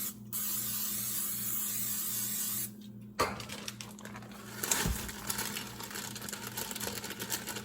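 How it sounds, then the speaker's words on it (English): Olive oil cooking spray hisses in a steady stream onto a pan for a few seconds, followed by quiet clatter and handling sounds in a kitchen. "I'm going to go ahead and spray both with the olive oil pan."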